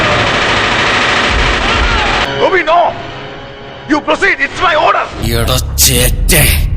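A dense, loud burst of rapid gunfire opens a film climax scene, followed by sharp shots and impacts breaking in over urgent voices.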